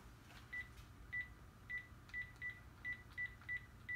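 Touch-tone beeps from a phone being dialed, about nine short evenly spaced tones in a row, clear but fairly quiet over a low room hum.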